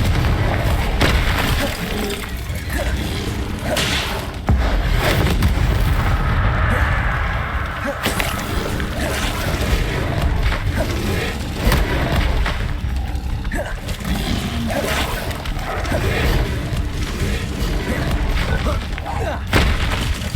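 Confringo fire-spell blasts rumble through Hogwarts Legacy combat, loud booming explosions layered with roaring game effects and an unbroken wall of noise, while a voice calls out spell names over the action.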